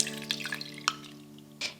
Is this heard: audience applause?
no